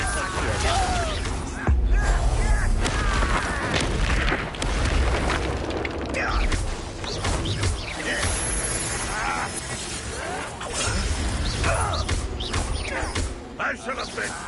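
Incendio fire spell blasts in Hogwarts Legacy, loud booming bursts of combat noise layered over dense battle sounds and spoken voices throughout.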